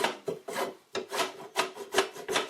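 A hand saw rasps back and forth through wood in about six quick, even strokes, close and fairly loud, with brief pauses between pushes.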